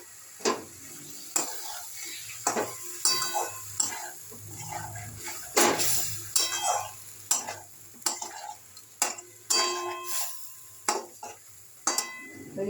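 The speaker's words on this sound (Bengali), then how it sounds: "আর একটু কষাবো। কষানো হয়েই এসছে, গন্ধ ছাড়তে আরম্ভ করেছে।" Egg curry masala being sautéed in a pan: repeated scraping stirs of a spatula against the pan over a soft sizzle, with occasional clinks of metal, close and moderately quiet.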